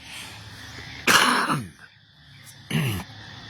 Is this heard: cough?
yes